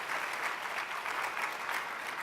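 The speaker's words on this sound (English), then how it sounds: "A round of applause for John." Steady applause from a conference audience, an even wash of many hands clapping at moderate volume, with no talk over it.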